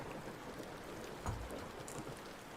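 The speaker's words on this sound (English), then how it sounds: "I hear the rain" Steady rain falls outside, a soft continuous hiss of drops on surfaces with a brief low thump partway through, heard alone at a distance without anyone talking.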